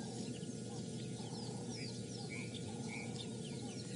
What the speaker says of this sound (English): you can hear all the birds all starting to wake up now